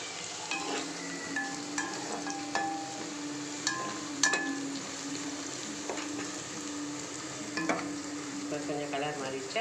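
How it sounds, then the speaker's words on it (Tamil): Onions sauté in a pan for egg gravy, with a continuous close sizzle broken by frequent clicking scrapes of a spoon stirring against the pan. "வெங்காயம் கொஞ்சம் வதக்கட்டும்."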